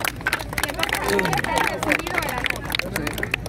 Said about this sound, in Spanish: ¡Fuerte aplauso! Un aplauso.